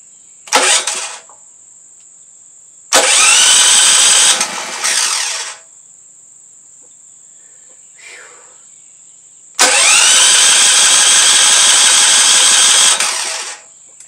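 A DuroMax dual fuel generator engine cranks over in three loud, close bursts without catching, each ending abruptly, with a steady high whine running between them.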